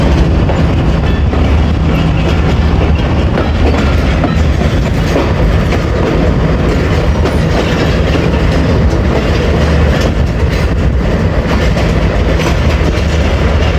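Baba Fareed Express passenger train running on rails on a branch line out of Lahore, a loud close continuous rumble with rhythmic clickety-clack of wheels over rail joints, heard from on board and with no talking.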